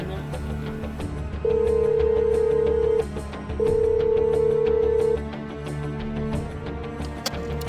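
A telephone rings in two long, steady bursts with a pause between them, loud over background music on a Chongqing TV dating show set where a female guest is not answering.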